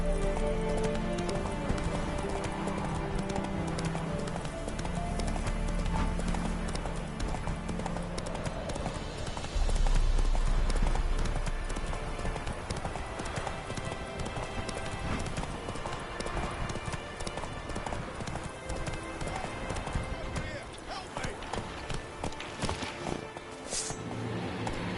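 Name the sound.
horse galloping, from the video game The Witcher 3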